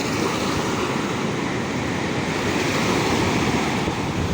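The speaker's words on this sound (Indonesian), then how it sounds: "kalau sudah pecah ombak datang" Loud, continuous roar of ocean surf washing in, broad and steady with wind noise over the microphone.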